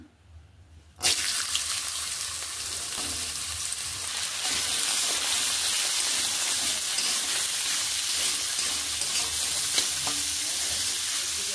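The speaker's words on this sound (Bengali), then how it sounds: "কড়াইতে একটু তেল দিয়ে নিয়েছি। এখানে আমি এবার গাজরগুলোকে ছেড়ে দিচ্ছি।" Carrots and grated potatoes hit hot oil in a wok after a second of near silence, then fry with a loud, steady, close sizzle that carries on throughout, with soft stirring underneath.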